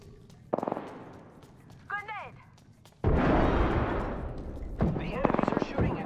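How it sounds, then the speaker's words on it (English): Enemy gunfire in the Apex Legends video game: scattered shots, then a loud, sustained burst of rapid firing with more shots near the end, mixed with the game's voice callouts. "The enemies are shooting at me."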